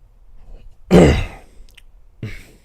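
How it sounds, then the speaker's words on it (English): A single loud throat clearing near the microphone, followed after a pause by a shorter, softer second clear; no talking. "I was clearing my throat there and it ended up peaking"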